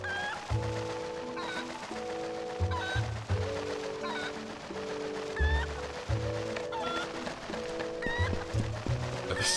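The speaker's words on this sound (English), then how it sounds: "This chicken's so mad." Agitated chicken clucking from the video game Twilight Princess HD, repeated squawks and clucks over a steady bed of game music and effects, loud and continuous throughout.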